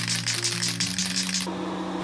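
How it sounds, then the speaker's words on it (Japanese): An aerosol can of water-based premium top coat, used for finishing a plastic Gunpla model, is shaken hard to mix it: a quick run of rhythmic rattling strokes for about a second and a half, then it stops, with soft music underneath. "缶スプレーはとにかくよく攪拌しましょう。"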